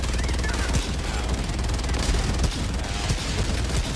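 Sustained automatic gunfire laying down cover fire in a chaotic co-op shooter, a dense, continuous rattle of rapid shots that stays loud and close throughout, with scattered heavier impacts mixed in.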